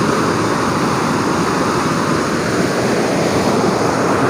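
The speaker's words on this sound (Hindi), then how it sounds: "ये देखें, मुसलसल बड़े ज़ोर से पानी जो है ना वो चल रहा है" Floodwater rushes fast and loud through the Palkhu canal at Head Marala near Sialkot after a broken embankment, a dense continuous roar with wind buffeting the microphone.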